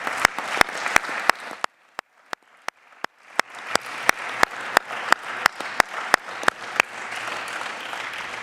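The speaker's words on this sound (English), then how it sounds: "I think they deserve all a great applause here again." Audience at a conference session applauds the speakers with a loud, spaced run of sharp close claps over a bed of softer crowd clapping that grows fuller toward the end.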